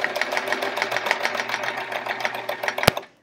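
A sewing machine stitches a swirl free-motion quilting pattern, its needle chattering in rapid, steady pulses close by, then stopping abruptly with a sharp click near the end.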